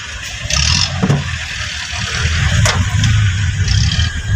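Road traffic on Kennon Road in Baguio City, a nearby car engine rumbling and accelerating over steady low traffic noise, with short clicks and knocks, fairly loud and continuous.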